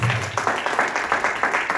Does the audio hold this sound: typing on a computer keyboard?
no